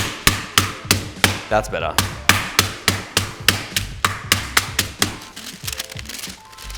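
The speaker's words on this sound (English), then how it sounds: "We've got actual hammers in here." Hammers pound raw chicken on a board in a steady run of loud, sharp, close thuds, about two or three per second, with a brief voice between strikes.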